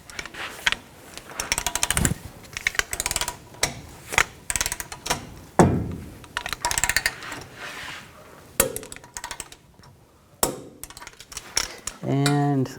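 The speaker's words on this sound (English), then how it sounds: "Now I'm going to torque this nut to 81 foot-pounds." Torque wrench tightening the control arm nut on a 2007-2014 GMC Sierra 3500 HD, heard as a series of sharp metallic clicks and clanks with a ratcheting rattle near the end.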